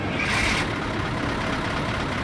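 The engine of a 1991 bus, a former special type vehicle, runs with a steady, loud low rumble and a brief hiss near the start, with no talking.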